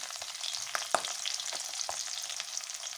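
Green chillies, onion and mustard seeds fry in hot oil in a pan with a steady close hiss and crackle, broken by a few sharp pops and light stirring taps, no voices.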